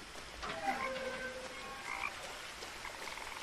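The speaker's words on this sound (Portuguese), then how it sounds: "Sapos." Frogs croaking in the video game What Remains of Edith Finch: several short, chirping croaks overlapping against a soft ambient background, moderately loud, with no talking.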